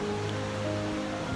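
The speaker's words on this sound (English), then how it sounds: "my goodness, the ripples and murmurs of the river. The river is flowing at a very good speed." Mo Chhu river in Punakha, Bhutan, flowing fast with a steady broadband rush of water, continuous and even throughout the short stretch, no voices over it.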